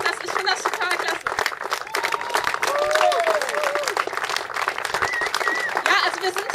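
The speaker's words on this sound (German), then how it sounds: "nochmal einen fetten Applaus für dich" A crowd at an outdoor demonstration in Bad Aibling applauds with dense, sustained clapping, loud and close, with a few voices and whistles rising over it.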